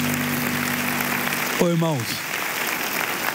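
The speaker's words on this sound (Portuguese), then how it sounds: "E vamos aplaudir a Jesus." Applause from a church audience in a Brazilian evangelical service rolls on steadily in the background while a voice briefly speaks over it partway through.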